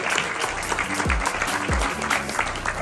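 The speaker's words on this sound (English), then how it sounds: "let's give a round of applause for all those amazing speeches" Crowd applause after speeches at a hall of fame event rolls on steadily throughout, layered over loud background music with deep thumping bass.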